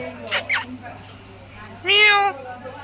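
A cat gives a single drawn-out meow near the end, following a couple of short sounds and quiet background hum, in Munnar.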